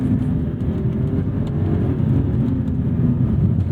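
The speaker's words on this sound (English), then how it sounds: "Silky smooth, straight inline 6 with a beautiful linear power delivery." A 2009 BMW 128i E82 straight inline-six engine pulls hard under acceleration, a loud, steady low drone that holds continuously throughout with no pauses and no voices.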